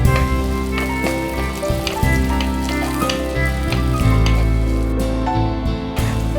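Ginger and sliced shallots frying in hot coconut oil, giving a loud, dense, continuous sizzle close up with crackling pops throughout.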